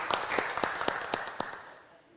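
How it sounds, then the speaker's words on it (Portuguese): Scattered clapping from a small audience at a Brazilian afternoon show segment, a handful of distinct sharp claps over a soft bed of light applause that thins out and fades toward the end. "É para você essas palmas"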